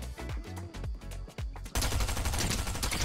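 Rapid bursts of Fortnite gunfire crackle in quick succession, with sharp separate shots early on giving way to a dense, loud stretch of continuous firing and impacts near the end.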